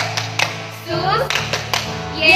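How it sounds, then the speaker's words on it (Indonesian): Children and adults at a Sunday school church service clap in short rhythmic bursts along with a chanted cheer, with voices chanting between the claps close to the microphone. "Tepuk Tuhan Yesus."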